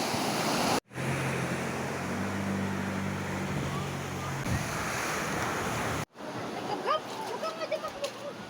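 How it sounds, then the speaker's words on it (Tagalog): Strong sea waves at high tide crash and roar continuously, with a loud, wind-buffeted surf wash and a voice speaking briefly over it. "Malakas yung alon, hindi tayo makakapaligo."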